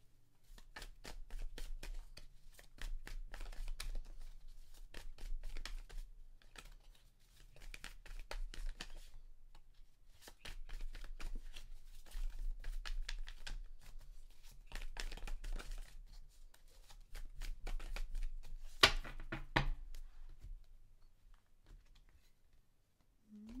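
Tarot cards are shuffled and drawn in long bursts of close, crisp riffling and flicking, pausing briefly between bouts, with a sharper card snap near the end and almost no talk.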